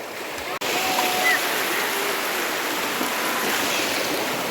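Steady river water rushes and flows in a village river where someone has come to bathe on a hot day, a continuous broadband wash with a brief dropout near the start.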